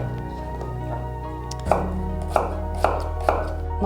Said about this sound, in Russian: Лук мы также нарезаем.